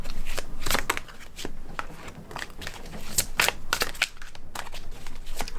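Luminataro tarot cards being shuffled and drawn by hand, giving a fast, papery riffle with crisp flicks and slides that stay close and fairly busy throughout, with a little faint talking underneath.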